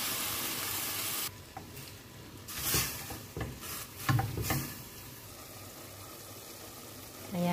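Meat frying in a pan as white wine is poured in, a loud sizzle and hiss with stirring scrapes, bursts of bubbling crackle rising and falling before settling into a steady frying hiss.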